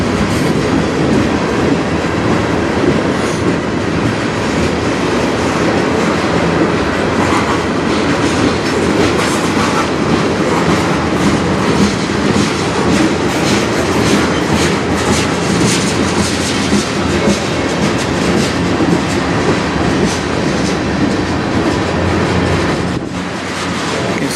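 CN freight trains roll past on the Strathroy Subdivision in Sarnia, Ontario, a loud, steady roar of railcars with continuous wheel clatter and rumble that stays close for the whole stretch, with no voices.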